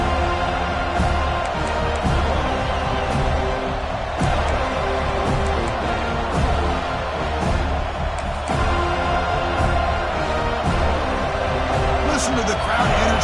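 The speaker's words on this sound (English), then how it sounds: "Listen to the crowd energy here in the early going." A football stadium crowd roars in a dense, steady wash of cheering that fills the whole stretch, with a commentator talking over it.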